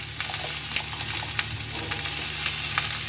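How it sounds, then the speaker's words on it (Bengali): Potato and pumpkin fry in a pan while being stirred: a close, moderate sizzle with scattered sharp crackles and light scraping taps, and no talking. "এটা একটু ভালো করে আমি ভেজে নিই।"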